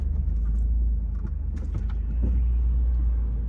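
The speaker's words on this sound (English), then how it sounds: "We gotta wait till traffic passes by. There's a lot of cars." Steady low car engine rumble from traffic passing along a town street in Alexander City, Alabama, with a continuous drone that swells slightly toward the end.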